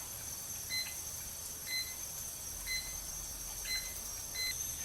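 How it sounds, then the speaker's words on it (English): A water ionizer beeps, short electronic beeps repeating about once a second, five in a row, each a pair of thin tones, over a steady high-pitched hum and low background noise. "it of course is beeping at us to remind us that we should not be drinking this water"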